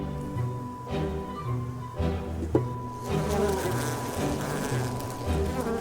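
Bees buzz steadily in a hive being opened for inspection, a dense low droning hum that stays soft and continuous throughout, with no talking.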